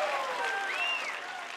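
Pickleball match crowd at the Las Vegas Pickleball Cup applauding, a steady, dense wash of clapping with some whistles rising through it, sustained throughout.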